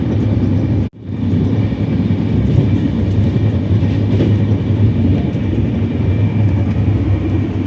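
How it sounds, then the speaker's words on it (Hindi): The 22413 Madgaon–Hazrat Nizamuddin Rajdhani Express passenger train runs at high speed, up to about 131 km/h. A loud, steady rumble of wheels and carriage noise continues throughout, with one brief dropout near the start. "अगेन ट्रेन की स्पीड काफ़ी अच्छी थी।"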